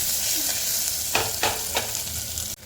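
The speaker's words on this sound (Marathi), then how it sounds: "एक बारीक चिरलेली मिरची घेतली अर्धा कांदा थोडंसं हलवून घ्यायचा" Chopped green chili and half an onion stirred in a hot pan, a steady oily sizzle with three distinct scraping stirs in quick succession, close and alone, ending abruptly.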